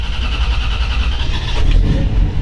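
A 1940 Ford Deluxe Coupe all-steel hot rod engine runs loud and close, a rough, throbbing low rumble that swells slightly partway through as it settles into running, with no voices.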